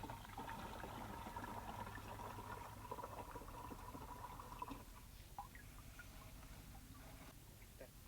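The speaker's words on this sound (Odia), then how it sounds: "4 ଲିଟର ପାଣିରୁ ମୁଁ 2 ଲିଟର ପାଣି ଡ୍ରମ୍ରେ ଢାଳି ଦେଉଛି" Two litres of water poured into a drum while mixing a spray for paddy fields, a faint, steady splashing trickle for about five seconds before it thins out into quiet background noise.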